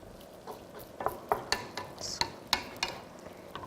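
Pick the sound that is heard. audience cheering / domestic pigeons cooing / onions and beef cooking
onions and beef cooking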